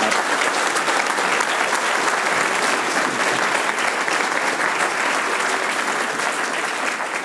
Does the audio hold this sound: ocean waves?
no